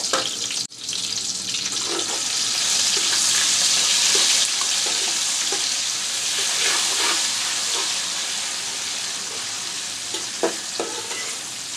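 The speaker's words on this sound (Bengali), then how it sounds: "পেঁয়াজটা নরম ভাজা হয়ে এসেছে" Onion frying soft in a pan, a loud continuous sizzle close up with occasional spatula scrapes and stirring clatter spread through it, no voices.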